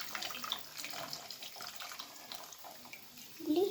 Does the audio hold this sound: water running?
yes